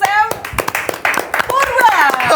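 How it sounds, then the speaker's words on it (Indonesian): A podcast studio audience claps for a guest in quick, uneven bursts of hands, close and fairly loud, while people talk over the clapping. "Boleh minta tepuk tangannya untuk Sam"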